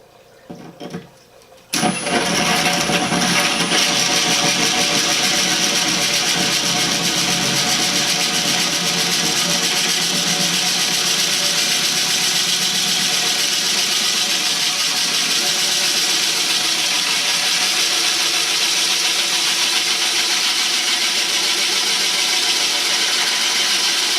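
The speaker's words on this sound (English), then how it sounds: "once it starts biting into the glass, I'm going to start bringing the drill upright." A drill bit grinds steadily into aquarium glass, starting abruptly after a brief quiet moment and running as a loud, continuous whine for over twenty seconds without talk.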